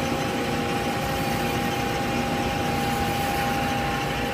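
A Hyd Mech 16A 16 by 16 inch horizontal band saw with a chip auger, running on 220 volt three-phase power, gives a steady, loud mechanical hum and drone. It sounds constant throughout, with no talk.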